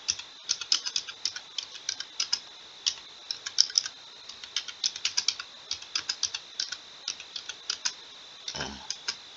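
Rapid clicking of keys on a computer keyboard in irregular bursts, close and fairly quiet, with a soft thump near the end.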